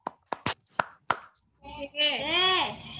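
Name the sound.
hand clapping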